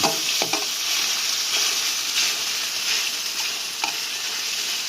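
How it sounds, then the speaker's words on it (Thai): Minced pork stir-fries in garlic oil in a pan, a loud continuous sizzle close by, broken by several spatula scrapes and taps. "คัวหมูสับให้สุกก่อน"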